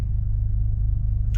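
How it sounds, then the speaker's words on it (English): Steady low rumble of a Volkswagen GTI engine, already running at idle after a normal start, close and fairly loud with no talk over it. "you just start the car as normal"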